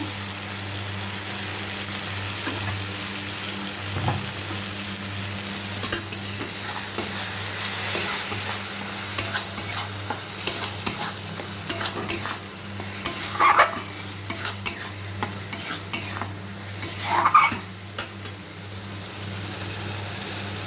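Spice paste of cumin, coriander and Kashmiri chili powder fries in a pan for a Bengali fish curry, a continuous sizzle under repeated scraping and clinking stirs that grow busier and louder toward the end.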